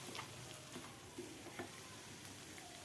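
Tapioca is stirred in a pan with crushed green chillies and onion, giving soft, faint scraping and a low sizzle in a few light strokes.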